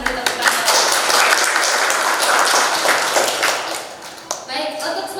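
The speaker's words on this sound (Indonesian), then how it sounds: "Silakan beri tepuk tangan." Applause from a class audience for presenting student groups, dense clapping that holds steady and then thins and tapers near the end.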